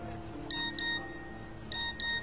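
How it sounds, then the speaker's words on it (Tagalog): Cellphone text message alert, a few short electronic beeps in two pairs, faint and fairly close over a quiet background hum, with no talk. "Ang cellphone ko, may nag-text."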